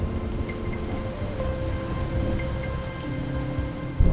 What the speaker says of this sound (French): l'eau de pluie qui tombe et qui s'infiltre